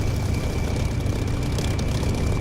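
A propeller aircraft engine running in the DCS flight simulator game, a continuous rough droning roar with a steady, fairly loud presence and no pauses or voices.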